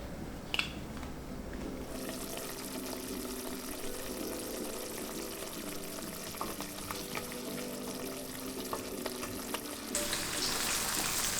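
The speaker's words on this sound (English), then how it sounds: "So I added all the zucchini inside of the pan." Zucchini fries in olive oil in a pan, a steady faint sizzle and crackle with occasional light knocks that swells slightly louder near the end.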